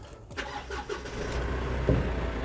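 An electronic-gear four-wheel drive car's engine cranks briefly and catches, then settles into a steady close idle hum without talk.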